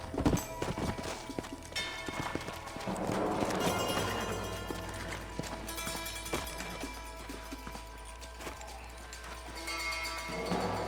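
Horse hooves clip-clopping in the Western video game Red Dead Redemption, a steady run of hoofbeats under game music and ambience, with scattered louder knocks.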